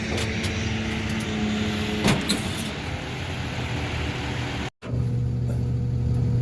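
Tow truck engine running steadily close by, a continuous low rumble with a brief knock near the middle and a short dropout before the drone resumes.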